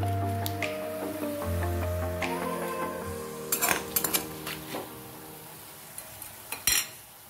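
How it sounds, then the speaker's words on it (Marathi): Shallow-fried paneer for palak paneer is lifted from a pan into a pot: a steady sizzle fades into a few sharp metallic clinks and scrapes of utensils against cookware, close and clear. "आता याला मी एका भांड्यात काढून"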